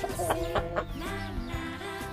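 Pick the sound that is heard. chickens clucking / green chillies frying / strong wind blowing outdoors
chickens clucking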